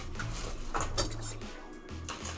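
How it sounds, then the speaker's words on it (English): Two ice cubes clinking into a cup coated with chocolate syrup while a cocktail is being made, a few faint close clicks and taps. "I'm gonna add 2 ice cubes."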